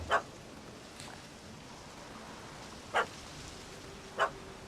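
A dog in the video game The Witcher 3 gives three short, faint barks, well spaced apart over a quiet ambient background with no talking.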